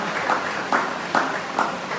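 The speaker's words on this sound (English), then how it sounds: "please put your hands together for these beautiful people here. Clap for them, please." An audience at a Nigerian pageant claps for the contestants in four evenly spaced bursts, a modest, rhythmic applause that sounds slightly distant.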